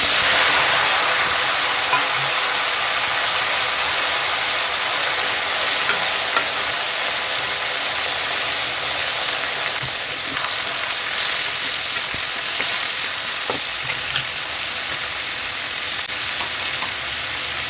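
Boiled bitter gourd pieces fry in hot oil with cumin, mustard seeds, dried red chillies and curry leaves, giving a steady, even sizzle that holds throughout with no voices.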